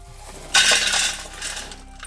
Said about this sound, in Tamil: நான் இப்போ இந்த பெரிய பாத்திரத்தில் நம்ம பொரிச்சு வச்ச எல்லாத்தையுமே பொண்ணாக போட்டுக்கலாம்.